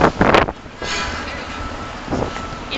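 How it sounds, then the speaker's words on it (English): Strong gusting wind buffets the microphone outdoors on a cold New York City street, a broad steady roar with louder gusts at the start and near the end. "The wind speed is super strong."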